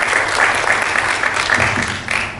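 Audience applause for a panel at a university-government-industry collaboration discussion, a steady dense clapping that carries through the whole stretch without pause.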